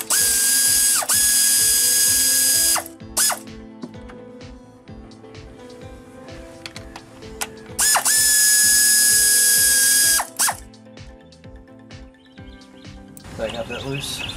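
A ratchet with an extension works small radiator bolts on a 2000 Pontiac Bonneville, giving rapid clicking pawl runs broken by pauses and handling noises, close up and loud.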